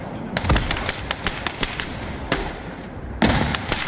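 Battlefield combat in the World War II game Gates of Hell: Ostfront, with a string of sharp gunshots and blasts cracking out at irregular intervals, two heavier booms standing out over a low rumbling background.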